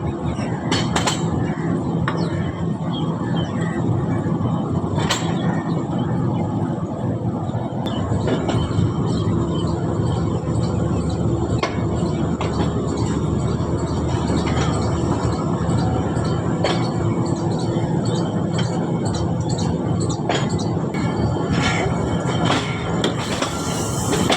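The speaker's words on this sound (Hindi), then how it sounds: "35 का डिपार्चर हो रहा है अब्दुल हकीम रेलवे स्टेशन से।" A passenger express train departs Abdul Hakim railway station, its loud continuous rumble and clattering wheels filling the scene with sharp metallic knocks and squeals over a steady roar, no talk.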